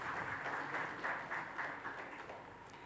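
An audience applauds steadily as guests are welcomed on stage at a film festival inauguration, a soft, distant wash of clapping heard alone throughout.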